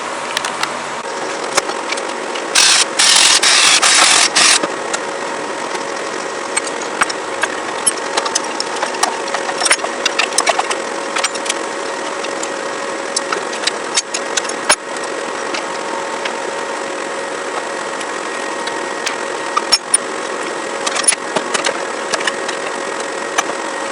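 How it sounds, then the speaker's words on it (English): Steering knuckle being welded on a Troy Bilt riding mower being turned into a lowered cruiser: a steady, loud buzzing and crackling hum runs throughout, with a louder burst early on and scattered sharp clicks and pops. "let's get us a steering knuckle welded up"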